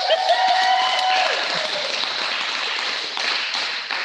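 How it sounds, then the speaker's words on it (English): Applause for a student at a school assembly fills the room, a steady wash of clapping from many hands held at an even level throughout, with a brief tonal sound at the start. "Elise, give her a round of applause."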